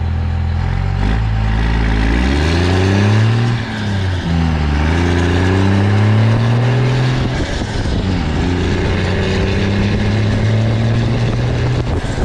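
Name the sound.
crew cab truck accelerating up to 6th gear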